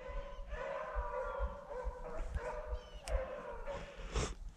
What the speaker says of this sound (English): You hear them dogs.